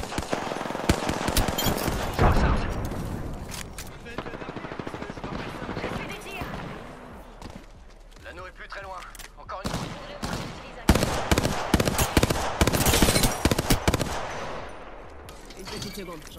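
Apex Legends gunfire comes in dense, loud automatic bursts and scattered single shots through most of the stretch, with a quieter lull in the middle. A voice speaks over the shooting.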